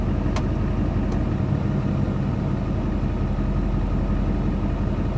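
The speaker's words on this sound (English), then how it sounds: "You're about to see a security truck go by." A security truck's engine rumbles steadily at close range, a low continuous drone as it rolls past, with no voices.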